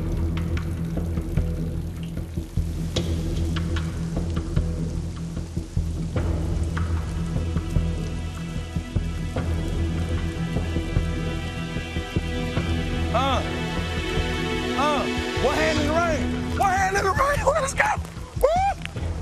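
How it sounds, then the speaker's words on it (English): Steady rain falls on an outdoor NFL football practice field at the New York Jets' 2010 training camp, a constant wash of drops that runs the whole time beneath ongoing talk and distant voices. "it's definitely starting to rain"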